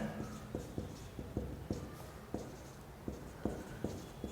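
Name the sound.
writing on a board during a lesson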